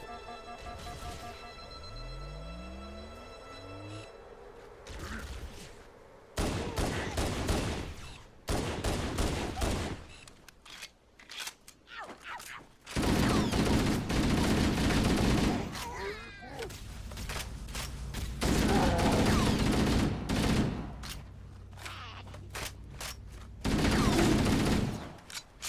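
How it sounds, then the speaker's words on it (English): Pistol shots and assault rifle bursts in the video game Halo, starting with isolated shots and growing into long loud sustained firing, with brief gaps between volleys. "this time using pistol headshots in addition to the assault rifle"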